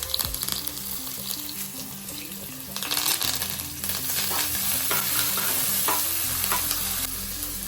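Ginger, garlic, green chili and curry leaves fry in a pan for an Onam kovakka fish curry, a steady close sizzle with stirring scrapes and clinks, over soft background music tones.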